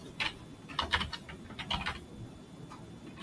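A file name is typed on a computer keyboard: quick bursts of light, close key clicks in uneven clusters, with short pauses between them and a quieter tail of a few taps.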